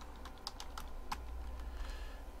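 A computer keyboard is tapped in a quick, uneven burst of about eight light keystrokes, close and fairly quiet over a faint background hum.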